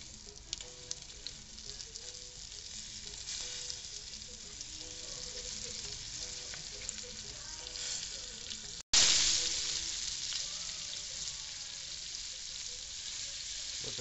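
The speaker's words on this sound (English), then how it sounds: "We only cook them for about 2 minutes on each side." Liver sizzles steadily in a frying pan for a long stretch, broken by a brief cut before the sizzle returns louder and brighter, close and continuous, with no speech.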